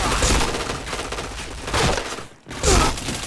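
Dense gunfire in a first-person shooter video game, continuous bursts of rapid shots with a short break before firing resumes, loud and close.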